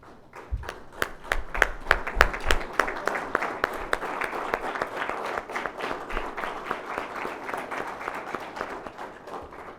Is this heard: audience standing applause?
yes